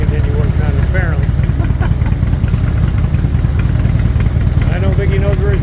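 A 2001 Harley-Davidson Electra Glide idles steadily in a repair shop with a slightly high idle, giving a continuous low throbbing rumble while people talk over it.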